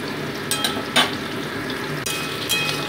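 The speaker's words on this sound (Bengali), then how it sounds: "পেঁয়াজগুলোকে মোটামুটি আমি 2 মিনিট ভেজে নিচ্ছি।" Chopped onions frying in hot oil with bay leaf and whole cumin, a steady loud sizzle broken by a few sharp scrapes and clinks of a spatula stirring in the pan.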